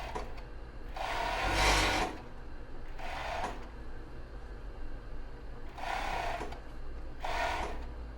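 A sewing machine stitches elastic onto a bra base in four separate bursts, each a steady mechanical whir, separated by quiet pauses, with no talking.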